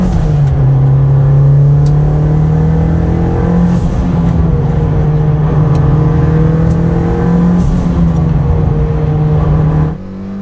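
Mitsubishi Lancer Evo 8 accelerates from inside the cabin, a loud, steady engine drone holding and slowly climbing for about ten seconds before cutting off abruptly, no talking.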